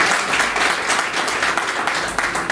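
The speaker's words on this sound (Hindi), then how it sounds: "तालियां बजा दीजिए" An audience at a Hindi poetry recital event breaks into dense, continuous applause, many hands clapping loudly and evenly for a couple of seconds.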